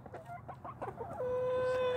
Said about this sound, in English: They're attacking me! Oh, chickens.